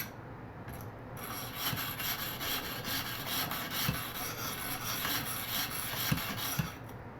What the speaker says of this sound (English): So we want to do this back and forth motion initially when we're sharpening so that we know we are creating that burr.